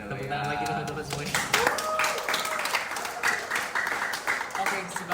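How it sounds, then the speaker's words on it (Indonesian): Scattered clapping from an audience at an Indonesian youth discussion event on politics, building into applause with voices talking over it. "tepuk tangan lagi teman-teman semuanya"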